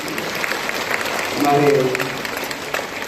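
An audience applauds steadily, with a dense patter of clapping throughout while someone speaks over it briefly.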